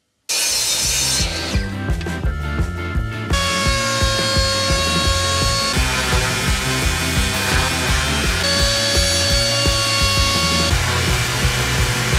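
Power tools cutting and shaping a block of oak, a loud continuous whine with steady rhythmic pulsing, a harsher burst of cutting early on, then sustained machining tones to the end, close and alone.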